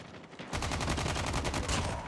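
A rapid automatic burst of gunfire from the mobile shooter game Call of Duty Mobile breaks out after a short quiet moment, with rattling shots in quick succession that stay loud to the end.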